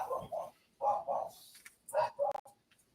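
A dog barks in several quick bursts, close and fairly loud, with short pauses between the barks and a brief higher yip near the end.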